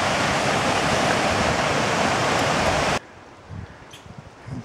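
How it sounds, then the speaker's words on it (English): Close waterfall roar on a mountain trail, dense and steady, cuts off abruptly after about three seconds, leaving quiet rustling and faint movement. "Waterfalls."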